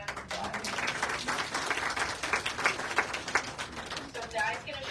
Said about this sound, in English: Val, let's give her a round of applause.